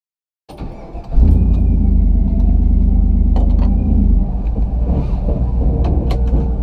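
A restored and modified Toyota Land Cruiser FJ43 starts moving with a loud, close engine drone that rises, holds a heavy low rumble, then eases slightly as the drive continues.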